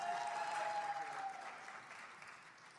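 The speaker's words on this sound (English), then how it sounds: "Please give them a big round of applause as we get started with the meeting." Audience applause at a medical association's annual convention meeting in Orlando, a steady spread of clapping that holds for almost three seconds and then slowly fades, with a faint tone running through the first half.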